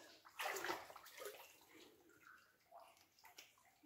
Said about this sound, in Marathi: जसं जसं चालत असं तसं तसं पाणी वाढत चाललंय